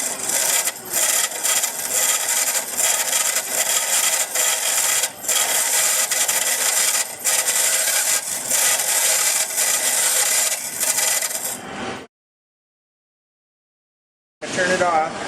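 A bench grinder wheel spins while a dressing tool is held parallel against it, producing a loud continuous harsh grinding rasp for about twelve seconds that cuts off abruptly, then resumes briefly after a silent gap.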